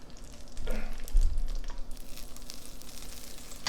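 About six tablespoons of butter sizzle and fry in a heated pot ahead of mushrooms, a steady moderate crackle with occasional stirring scrapes and no voices.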